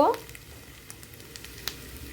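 Potatoes and Singapuri banana pieces fry in a pan for a jhol, a soft crackling sizzle heard close but quiet, with faint stirring clicks and no talk.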